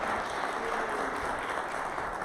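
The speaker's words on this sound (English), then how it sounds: "That is well-deserved applause" An audience in a chapel lecture hall applauds steadily, a dense, continuous wash of clapping from many hands that holds even throughout.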